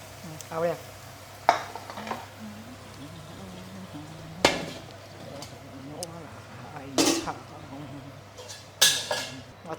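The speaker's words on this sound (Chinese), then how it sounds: "我炒这个菜我是用鸡花油" Asparagus and scallops stir-fried in a wok with chicken fat, with a few sharp spatula clanks and a soft sizzle beneath a person talking throughout.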